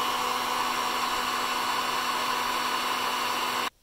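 A heat gun blows hot air onto heat shrink tubing over soldered battery wires, a steady, loud, close whooshing hum that runs continuously and cuts off abruptly at the end.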